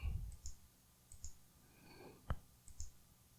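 A computer mouse clicks several times, soft and close, with small muffled taps spaced irregularly against a quiet background.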